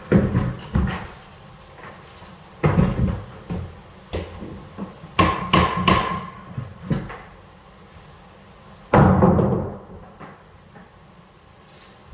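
Hammer tapping a nail into an exterior door frame, a handful of sharp, close knocks spaced irregularly with quiet gaps between and one heavier blow near the end.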